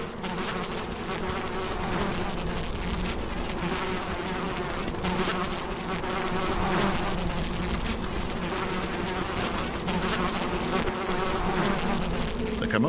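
A swarm of male bees mobs emerging females at a desert nest site, a dense, constant buzzing drone of many wings, close and loud, with no voices over it.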